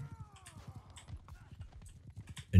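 Horse hooves clip-clop at a steady trot in the Mount & Blade 2: Bannerlord video game, close and moderately loud, with soft tonal game sounds above them and a sudden loud thump at the end.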